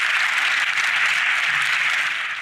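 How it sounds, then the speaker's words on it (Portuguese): Steady, dense applause fills a large hall as the audience gives a standing ovation after a speech in the European Parliament, loud and unbroken without any voices. "quando ele fez esse discurso no Parlamento Europeu e foi aplaudido de pé"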